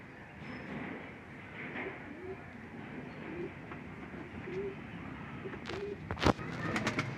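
Pigeons coo in repeated soft, low calls over a murmuring background, moderately close, with a sharp clatter and some shuffling noises near the end.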